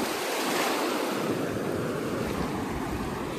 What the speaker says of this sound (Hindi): यहाँ घुटना तक पानी आ चुका है और आगे से भी लहर आ रहा है